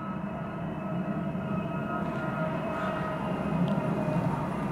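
A Nissan Leaf electric car, a newer model from about 2022, rolls past steadily with a broad low road rumble and faint whine, continuous and moderately loud throughout, no voices.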